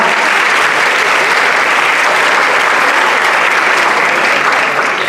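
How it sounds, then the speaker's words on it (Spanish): A crowd at a costume contest applauds a jury member with loud, dense, sustained clapping that holds evenly throughout without letting up. "Un aplauso para ella."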